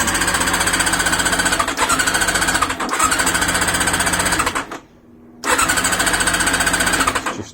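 Honda CB400 motorcycle engine cranking but failing to catch: a loud, rapid mechanical churning of the starter in long bursts, broken by a brief pause before cranking resumes, with no talking.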